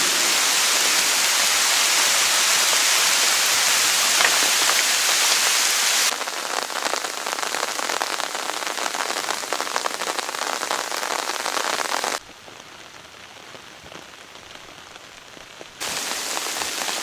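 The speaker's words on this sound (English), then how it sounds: "Water hit the shingles and ran off. Every overlapping disc did its job. The roof shed the rain." Heavy rain pours onto the overlapping wooden-disc shingles of an A-frame log cabin roof built without metal fasteners, a loud, dense hiss that drops in intensity partway through and swells back near the end.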